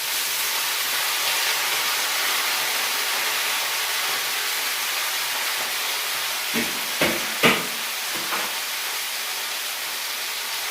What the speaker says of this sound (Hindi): जब तक गोभी फ्राई हो रही है